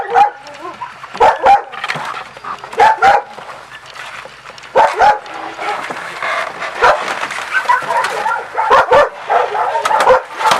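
A large stray dog barks repeatedly in a town centre, loud close woofs in irregular bursts with some whimpering between them.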